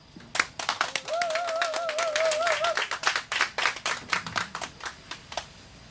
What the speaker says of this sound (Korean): 큰 박수 함성 부탁드립니다.